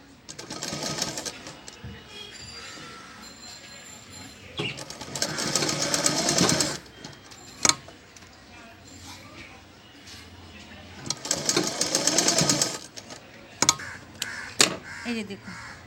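A sewing machine stitches a Spider-Man costume in bursts of rapid, whirring needle chatter, each lasting one to two seconds, with separate clicks and pauses between them. A person speaks quietly in the gaps.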